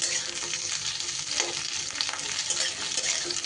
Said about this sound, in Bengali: একটু মশলাটা এইভাবে নাড়িয়ে চাড়িয়ে ভেজে নিতে হবে